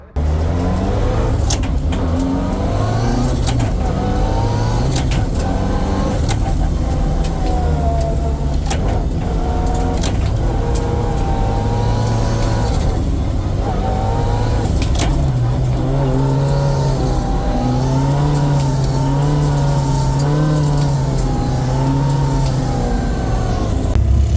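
A rally car runs flat out on a forest rallysprint stage at Ashley Forest, heard from inside the car. The engine drones loudly and steadily and its pitch rises and falls through the gear changes. Gravel and bumps crack against the car throughout.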